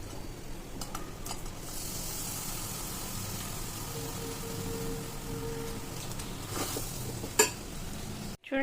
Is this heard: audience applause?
no